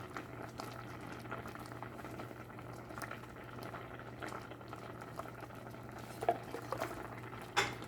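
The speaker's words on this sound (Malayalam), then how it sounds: "ഇനി നമുക്കിതിലേക്ക് അരപ്പൊഴിച്ച് കൊടുക്കാം." Ground paste of coconut, garlic and cumin poured into a simmering Kerala mango curry, a soft bubbling under faint clinks and stirring from the pot, quiet and close.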